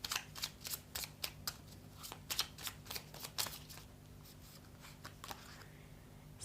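Tarot cards being shuffled and drawn during a reading: close, papery riffling and flicking in quick bursts for several seconds, then settling into quieter handling with a low hum underneath and no speech.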